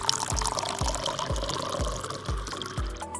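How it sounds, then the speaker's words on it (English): Water pours steadily from a watering can onto a potted plant, a continuous close splashing stream with soft regular gurgles, and no voices. "Sarah was watering the plant."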